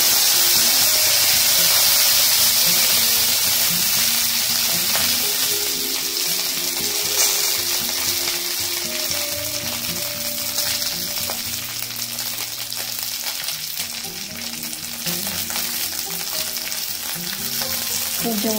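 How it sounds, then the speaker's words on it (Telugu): Curry leaves sizzling in hot tempering oil with mustard seeds, cumin and dried red chillies, a loud continuous crackling fry with occasional pops and stirring, close up and steady throughout. "తాలింపులో కొంచెం కరివేపాకు వేసుకున్నాం."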